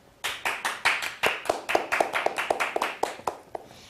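An audience welcomes a guest speaker, Katie Smith Milway, to a student video club. Rhythmic group clapping runs steady and fairly even for several seconds, moderately loud in a room.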